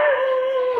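A dog howls in one sustained, wavering, fairly loud tone close by, outdoors during a family outing.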